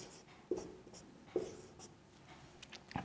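Chalk or marker writing on a classroom board during a maths lesson: quiet scratchy strokes with a couple of sharp taps, faint against a soft room hiss.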